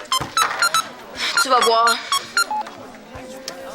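A cell phone rings with a repeating electronic ringtone of bright tonal bursts, loud and close, while a person speaks French over it.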